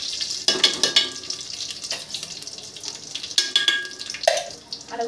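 Curry leaves, mustard seeds and cumin crackling in hot ghee in a pan, a steady close sizzle broken by sharp popping bursts and a few stirring scrapes.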